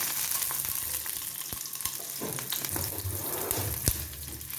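Green chilies and garlic sizzle and crackle steadily in a hot pan for a vegetable stew, with a few brief sharp pops and stirring scrapes standing out, close and moderately loud.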